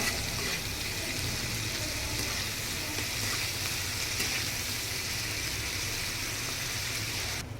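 Salted ingredients for a restaurant-style paneer butter masala sizzle and fry steadily in a pan as they are stirred, a continuous close hiss with no talking.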